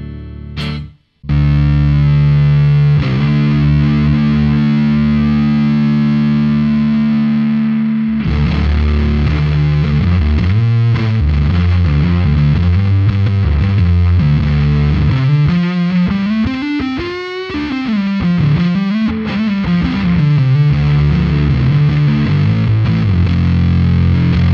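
A single-coil Stratocaster on its neck pickup, played through a Fuzzsimp 2 one-knob fuzz pedal, gives a thick, saturated distorted tone with sustained notes and bends. It plays loud and continuous after a brief opening strum and a short gap.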